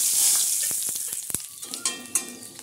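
Dried red chillies and five-spice seeds hit hot, dark oil in a pan, giving a bright, loud hiss that quickly settles into crackling sizzle with scattered pops, close up.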